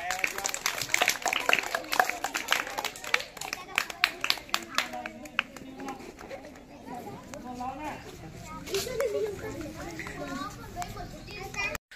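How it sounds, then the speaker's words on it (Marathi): A group of schoolchildren clap loudly in a burst of rapid, dense claps after a classmate's bicycle attempt, with children's voices and chatter mixed in before the clapping thins into talk. "जोरदार टाळ्या वाजव त्यासाठी एकदा"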